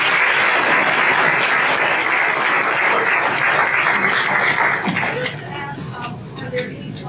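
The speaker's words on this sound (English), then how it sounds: "I'd like to give them a round of applause" An audience at a local government meeting applauds with loud, dense clapping for about five seconds before it thins out and fades, and a little talk follows.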